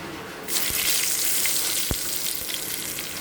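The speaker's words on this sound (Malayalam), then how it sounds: "പാനിലെ ചൂടായ എണ്ണയിലേക്ക് കടുകിട്ട് പൊട്ടിച്ചെടുക്കുക." Mustard seeds hit hot oil in a pan and start spluttering, a dense continuous sizzle with scattered sharp pops, close and loud with no talking.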